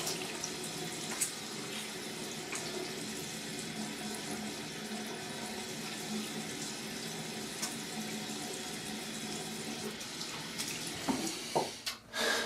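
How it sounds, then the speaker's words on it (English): Tap water runs steadily from a faucet while a freshly shaved head is rinsed during a wet shave, a continuous close splashing wash that breaks into a few louder bursts near the end. "Give me 1 sec to rinse my head."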